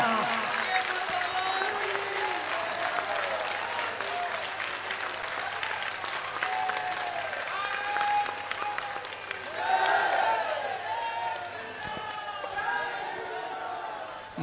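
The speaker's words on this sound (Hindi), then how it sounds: "चाहिए तालियां।" A crowd at a Hindi-language gathering applauds with sustained, dense clapping that swells and dips across the stretch, mixed with some crowd chatter and voices.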